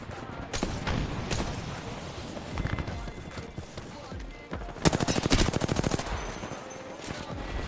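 Gunfire from a recoil-macro weapon in Apex Legends, rapid automatic bursts in several stretches, the densest a fast even rattle late on, with game sounds and footsteps between bursts.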